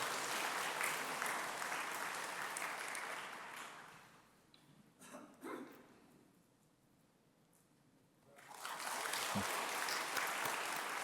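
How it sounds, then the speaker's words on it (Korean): A church congregation at a Sunday evening baptism service applauds loudly for about four seconds, falls to a quiet lull, then breaks into a second full burst of clapping. "박수로 맞아주시면 감사하겠습니다"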